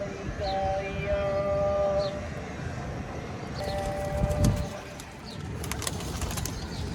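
Pigeons kept for sale coo in low soft bursts amid a busy outdoor bird market, with a distant train rumbling and whistling in the background.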